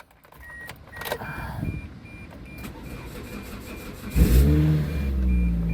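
A Pontiac Vibe GT's engine cranks and catches near the end with a loud rumble, then idles up and revs; faint clicks and a high electronic tone come before it, and no one talks.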